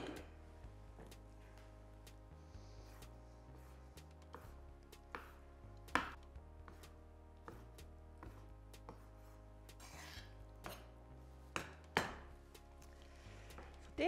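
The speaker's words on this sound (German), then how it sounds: "schneiden den Lachs in kleine Würfel" Salmon being cut into small cubes with a knife on a board while cooking a one-pot salmon pasta: steady rhythmic chopping taps throughout, with a few sharper, louder knocks, over a soft background music bed.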